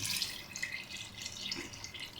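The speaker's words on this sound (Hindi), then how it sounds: "फिर इसमें हम पानी डालेंगे जिसमें ये गल जाए" Water poured into a cooking pot of bottle gourd and chana dal in a Punjabi home kitchen, a steady close splashing trickle with faint dripping, no voices.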